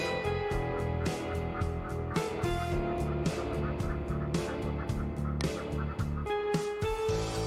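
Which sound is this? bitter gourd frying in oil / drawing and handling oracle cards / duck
duck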